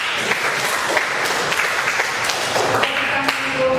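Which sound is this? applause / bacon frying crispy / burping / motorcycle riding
applause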